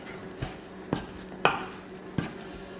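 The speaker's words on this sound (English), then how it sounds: "All right, we're gonna stir." A spoon knocks against a bowl while garlic parmesan chicken skewer seasoning is stirred, giving four separate clinks spaced about half a second apart over a quiet background.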